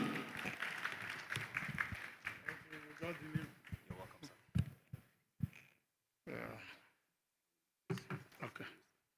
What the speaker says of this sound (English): Please give him a round of applause as he comes up.